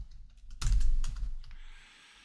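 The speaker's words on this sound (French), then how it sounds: "Je vais pouvoir taper mon nom." Typing on a computer keyboard while entering a name into a WordPress contact form, a short burst of close keystrokes and thumps lasting about a second, then quiet room tone.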